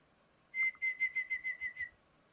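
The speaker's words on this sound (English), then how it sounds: "Whistling with your mouth sounds like this." A person whistles with their mouth, a clear steady tone broken into about eight short even notes in a quick rhythm, close and alone with nothing else behind it.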